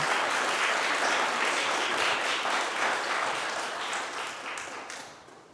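A church congregation at a Sunday service and annual meeting applauds newly elected nominees: dense, sustained clapping from many hands that slowly tapers off toward the end, with no voices.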